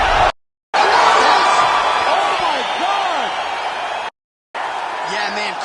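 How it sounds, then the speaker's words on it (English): Crowd roaring and cheering after a knockout punch in UFC 5, a loud, sustained arena roar with whoops, under commentators' voices, cut by brief silent gaps. "crowd loving it"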